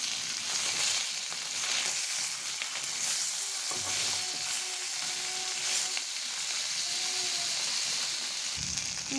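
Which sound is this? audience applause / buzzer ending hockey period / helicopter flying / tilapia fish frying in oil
tilapia fish frying in oil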